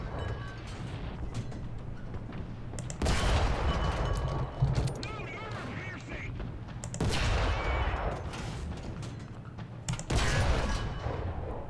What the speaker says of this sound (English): Looks like I'm firing my 76 and my 45 is just sailing right over it.